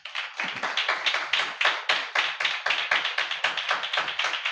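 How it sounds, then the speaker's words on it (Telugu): A church congregation at a Holy Communion service clapping together in a steady, rhythmic beat of sharp claps, loud and close, with no talk over it. "ఒకసారి చప్పట్లు కొట్టండి"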